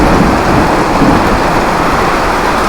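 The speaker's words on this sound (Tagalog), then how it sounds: "Ah, lakas ng ulan, no?" Heavy rain pours down steadily in a loud, dense roar, with a deep rumbling undertone throughout and no voices.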